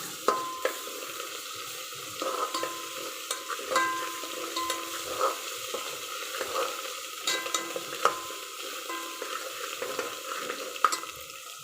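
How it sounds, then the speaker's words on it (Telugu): Ginger garlic paste frying in a pan for a chicken curry, with a soft, steady sizzle and light stirring scrapes running throughout and no voices. "నెక్స్ట్ అల్లం వెల్లుల్లి పేస్ట్ వేసుకోవాలి."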